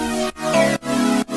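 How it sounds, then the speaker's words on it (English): Sustained synth chords with a swirling, sweeping flanger effect, played as four held chords separated by brief silent breaks, loud and up close. "when you turn on the flanger, it makes it sound like this."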